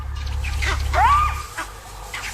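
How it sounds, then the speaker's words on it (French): A jackal's short rising yelp cuts through steady low ambient rumble in the wild, with faint scattered calls further off. "Aux aboiements des chacals font écho les cris des singes verts qui se font entendre dans le lointain"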